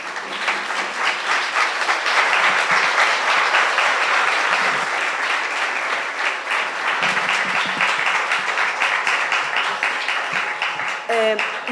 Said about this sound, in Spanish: Bueno, pues se merece un aplauso.